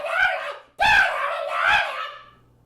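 A person's voice mimics the high, wavering screech of cow milking machines, three drawn-out squealing cries in quick succession, loud and close.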